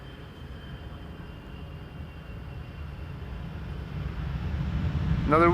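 KLM Boeing 747 "Orange Pride" landing on the Polderbaan at Amsterdam Schiphol after a flight from Los Angeles: a steady low jet rumble with wind noise, swelling slowly in loudness as the airliner approaches.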